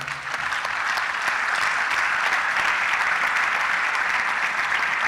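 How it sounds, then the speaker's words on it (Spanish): Audience at a formal ceremony awarding a medal bursts into sustained applause, a dense, steady roar of clapping that swells quickly and stays loud for several seconds. "Vaya un aplauso"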